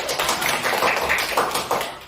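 A group of people applauds, dense overlapping claps in a small room, steady and fairly close.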